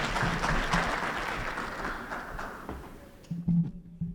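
An audience claps at a capacity-building workshop at Sawela Lodges to welcome a presenter, with sustained, fairly soft applause that fades out, followed by a brief voice.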